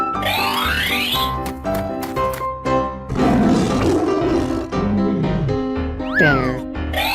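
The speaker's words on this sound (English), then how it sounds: "Tiger." A tiger roars loudly in a 3D animal sliding game, a drawn-out cartoon growl over steady, cheerful game music with springy sound effects.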